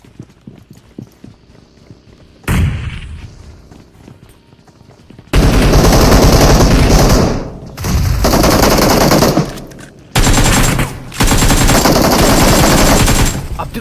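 Automatic gunfire from the mobile battle-royale game BGMI rattles out in several long, loud, close bursts with short gaps between them, after a quieter stretch of faint clicking and one earlier shot.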